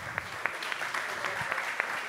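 A dense burst of applause fills a hall aboard the MSC World Europa cruise ship during a tribute to Diego Maradona, steady and fairly loud with a few sharper claps popping out.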